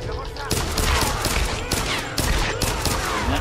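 Rapid gunfire from the video game Tomb Raider, a dense fusillade of repeated loud shots in bursts with brief gaps, running throughout.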